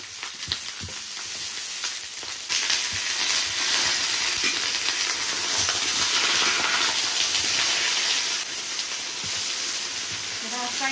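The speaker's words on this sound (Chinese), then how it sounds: "锅里放点油，把这茄子煎一下，" Eggplant and chili peppers fry in oil in a wok, giving a loud, continuous sizzle with some stirring clatter that eases slightly toward the end.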